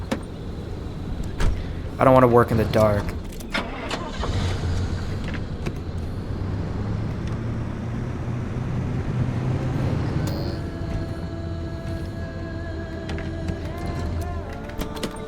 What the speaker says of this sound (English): Let's bring the car back in.